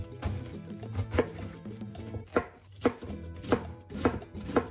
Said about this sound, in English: so for the cabbage, we're just gonna chop this bad boy up